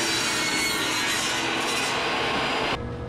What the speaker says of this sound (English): So we used our cross-cut sled on our table saw.